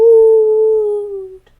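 A single long voiced howl from a reader imitating a teeny tiny ghost in a children's story, steady and loud for over a second before fading out, close and clear with nothing else behind it.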